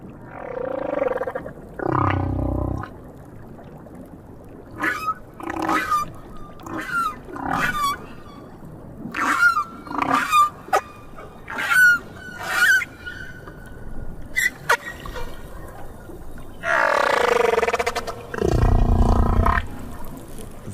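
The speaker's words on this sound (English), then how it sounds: "The whales in different oceans have different songs." Whale song in the South Pacific ocean: a series of moaning, rising and falling calls and short squeaks, some loud and resonant, repeating irregularly with pauses, heard alone without talk.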